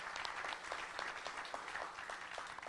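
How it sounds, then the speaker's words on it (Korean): An audience at a 2014 Go Venture Forum gathering claps for a venture investor being introduced, producing a steady, even patter of applause held at a moderate level throughout. "우리 호창성 대표 박수 한번 부탁드리겠습니다"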